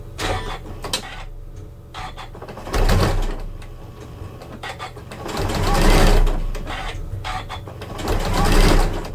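A Janome sewing machine stitches quilt binding in several bursts of steady mechanical whirring with pauses in between. Each run swells loud and then stops.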